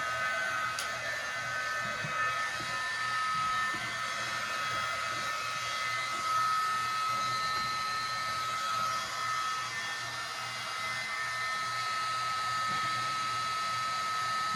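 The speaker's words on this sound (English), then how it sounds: "And I use the Grease heat tool." A heat tool blows hot air onto hair in a morning wash routine, a steady close whirring drone that holds unbroken from start to finish with no voices.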